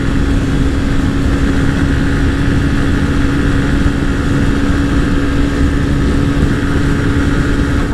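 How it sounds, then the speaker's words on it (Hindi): A TVS Raider 125 and a Honda SP 125 motorcycle run side by side in a drag race, giving a loud, steady engine drone with a constant hum and rushing wind and no pauses. "टक्कर तो दे रहा है अर्जुन राठौर, पर 103-104 पे अपनी बाइक चल रही है।"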